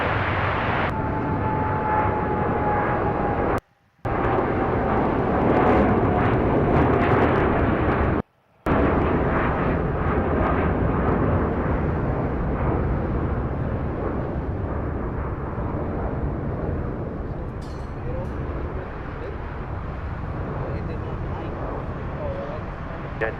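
A heavy Boeing 787 Dreamliner jet departing from LAX, a loud sustained roar of engines that dominates throughout, with two brief gaps, slowly easing off toward the end.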